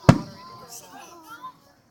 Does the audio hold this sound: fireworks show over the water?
yes